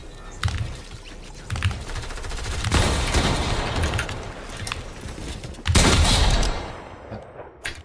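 Rapid bursts of gunfire in the video game Fortnite during a token wager match, several loud volleys spaced across a few seconds over constant background game noise.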